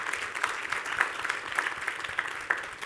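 A crowd applauds steadily, a dense patter of clapping hands filling the room without pause, moderately loud and slightly distant.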